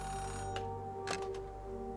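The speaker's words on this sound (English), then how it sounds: "A payphone ringing in the wild?" A payphone rings in the video game Oxenfree II, a steady electronic trill with sustained tones running throughout, plus a few brief bright bursts partway through.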